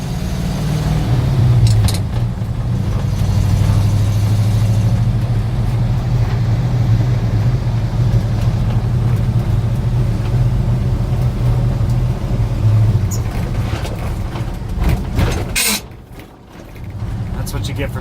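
A 1966 International Harvester 1300A one-ton pickup drives along in low gear, its engine rumbling loud and steady up close before briefly dipping and picking back up as a gear shift goes through, with someone talking over it.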